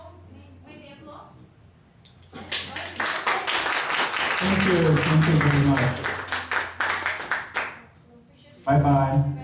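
Audience applause at the close of a conference lecture, a dense run of claps building for several seconds after a brief thank-you, with someone speaking over and after it.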